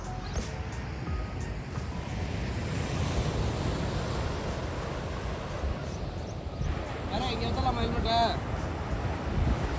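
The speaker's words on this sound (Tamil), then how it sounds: "நேச்சர் சவுண்டு, வேவ்ஸோட சவுண்டு, இது மட்டும்தான் இருந்தது." Ocean waves wash steadily onto a quiet beach along the East Coast Road, a continuous broad surf roar with some wind, loud and near, with no voices.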